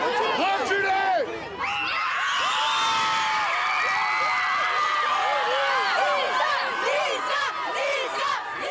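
A dense crowd of fans surrounds a 23-year-old rapper outside in his home neighbourhood, cheering, whooping and shouting at close range in a loud, steady roar, with excited voices and calls layered through it.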